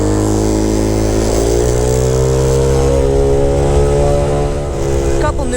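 A metallic blue 2021 Icebear Maddog Gen 5 engine runs loud and close, a steady revving drone that rises gently in pitch. Speech is mixed in over it.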